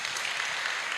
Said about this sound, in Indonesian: tepuk tangan coba buat anak Gen Z dulu